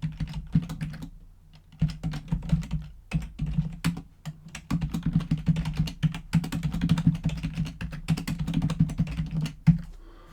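Rapid typing on a computer keyboard while entering login details, close and continuous keystroke clatter in bursts with a short pause near the start and one harder key tap at the end, no speech.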